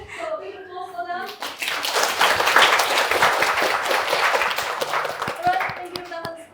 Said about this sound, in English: So big applause for them.